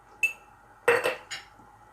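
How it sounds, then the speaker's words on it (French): A spoon stirring chorba soup in a metal pot, giving a few sharp clinks and scrapes close by, one isolated tap followed by a quick cluster of knocks. "Donc vous ne cessez pas de mélanger."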